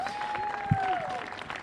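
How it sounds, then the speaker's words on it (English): Brief, thin applause from a ribbon-cutting audience honoring city commissioners, with a sustained ringing tone over it and one dull thump partway through. "Give them another big round of applause."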